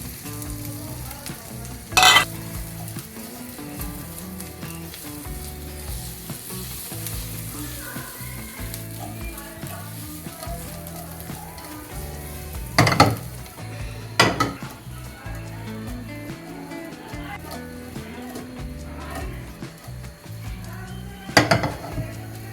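Boiled and fried baby potatoes sizzling in a pan with spice powders: a loud, constant frying hiss with scraping stirs and a few sharp metallic clanks of utensil against pan, no speech.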